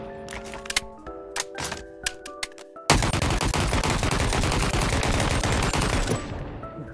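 Game AK rifle from Bonelab firing: a few scattered single shots and clicks, then a sustained loud burst of rapid automatic fire that rolls on for several seconds before cutting off, with no talking.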